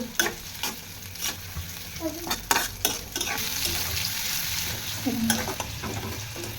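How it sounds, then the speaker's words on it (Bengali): Onions frying in oil in a home kitchen pan for a chicken and potato curry, with a steady close sizzle and repeated scraping stirs of a utensil against the pan throughout. "ওর মধ্যে পেঁয়াজ দিয়ে দিচ্ছি, ভালো করে নাড়িয়ে নিচ্ছি।"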